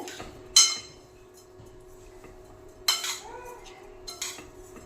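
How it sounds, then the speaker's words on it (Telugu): Two spoons stir semiya (vermicelli) with ghee in a pan for a coconut sweet, giving a few sharp metallic clinks spaced seconds apart over soft scraping, close and fairly quiet. "ఇప్పుడు బాగా కలుపుకోవాలి 2 స్పూన్లతోని."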